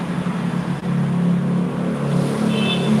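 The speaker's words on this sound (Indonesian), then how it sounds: "Waduh, suara mobilnya serem banget ya." A car engine in the shooter game Free Fire hums and revs steadily and loudly for the whole stretch, with a brief dip partway through and no talking.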